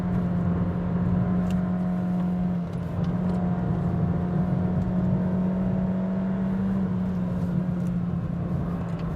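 A Honda City car accelerating flat out in third gear while climbing a mountain hill road, the engine a loud, steady droning hum with a sustained rising tone and road roar, heard from inside the cabin.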